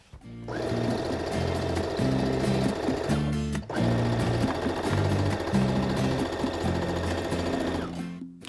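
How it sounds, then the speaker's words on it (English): A sewing machine runs in a few rapid bursts, stitching along a pressed edge of an elastic waistband, with a short pause and brief stops between runs; the mechanical whirring is close and steady, with no speech. "just stitch 1/8 of an inch away from that bottom pressed edge all the way around, back stitching well at those notches"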